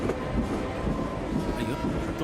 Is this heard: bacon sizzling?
no